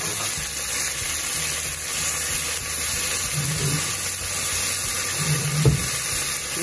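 Onion, carne de sertão and calabresa sausage frying in a pan, giving a steady, close sizzle and hiss with occasional soft stirring bumps.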